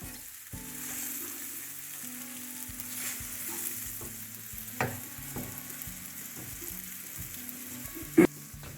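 An egg and cabbage omelette frying in a pan after being flipped: a steady soft sizzle with occasional scrapes and clacks of a utensil, and one sharper knock near the end.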